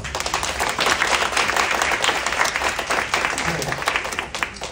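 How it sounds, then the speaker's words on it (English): Hearty applause from a training-session audience, many hands clapping in a thick, even wash that holds steady for several seconds. "you guys, you deserve big clap."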